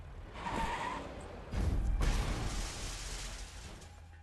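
In Arknights, a truck slams into a person: a whoosh and rumble build, then a heavy impact thud with a crunching, skidding tail that fades out, with no voices over it.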